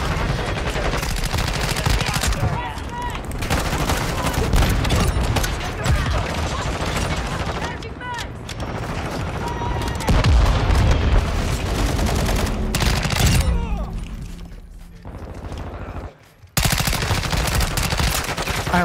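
Rapid bursts of gunfire in a video game, fast repeated shots and mechanical clatter running almost continuously, loud and near, with a few short pauses and a voice speaking over it.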